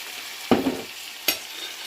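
Stock poured into a pan of frying meat for a meat pie filling gives two short, sharp sizzling bursts close by, each fading quickly into a quiet pan hiss.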